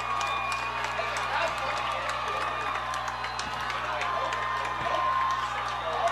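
Home crowd at a Fort Madison high school varsity football game cheering and applauding from the sidelines, a continuous distant roar with scattered whoops beneath overlapping commentary.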